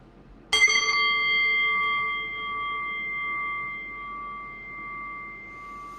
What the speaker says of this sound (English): I will ring the bell